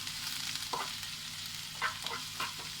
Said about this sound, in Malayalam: ഇതിൻ്റെ പച്ചമണം മാറുന്നവരൊന്ന് വഴറ്റിയെടുക്കാം.